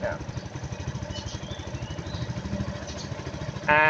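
A Suzuki Jelato scooter engine runs steadily after starting, a close, rapid putter with even pulsing that stays loud throughout, a brief higher-pitched sound joining at the very end.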